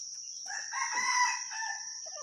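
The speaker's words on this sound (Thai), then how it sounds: "เหลืองนะฮะไก่เหลืองสวยครับ เดี๋ยวเก็บเป็นพ่อพันธุ์นะครับ" A yellow rooster kept for breeding crows once close by. The long call rises and falls over about two seconds against a steady high background whine, with no talking.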